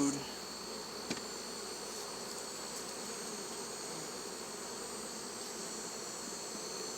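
Honeybees buzz in a steady, faint hum during a beehive inspection, with a brief knock near the start and no talk over the drone.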